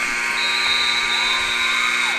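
An end-of-period buzzer in a women's college basketball game, Pensacola Christian College against Coastal Alabama Community College North, sounds as a loud, steady electronic tone that holds through the whole moment over arena noise.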